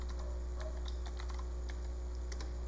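Rapid clicking of a computer keyboard as someone types during a VS Code and Python setup, with irregular keystrokes over a steady low hum and no talking.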